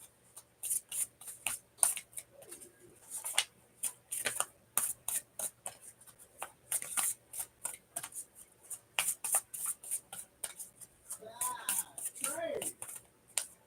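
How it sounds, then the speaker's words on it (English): Tarot cards shuffled by hand in a steady run of crisp, close riffling clicks and soft slaps, with a brief murmur of voice near the end. "I'm gonna keep shuffling until I get that final card."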